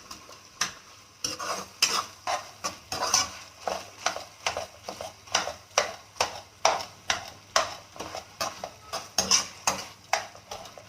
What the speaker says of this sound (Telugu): ఇలా మొత్తం అంతా గరిటెతోనే ఇలా నలిపేసుకోవాలి